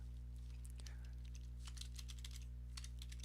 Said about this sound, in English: That sound of the typing right now is me messaging him